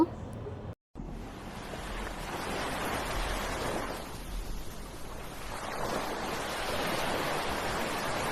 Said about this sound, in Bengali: সমুদ্রে আজকে অনেক বড় বড় ঢেউ দিচ্ছিল আর চারপাশে অনেক ভিড়ও ছিল।